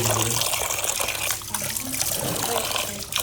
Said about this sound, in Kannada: ಇವಾಗ ಉಪ್ಪು ಹಾಕ್ಬಿಟ್ಟು ತೊಳಿತಾವ್ರ ನಮ್ಮಮ್ಮ ಮೀನು